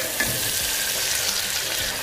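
Onion, chili, cashews, curry leaves, salt, pepper and spices are mixed in about three spoons of hot oil for moong dal khichdi, giving a steady, close, even sizzle with soft stirring underneath.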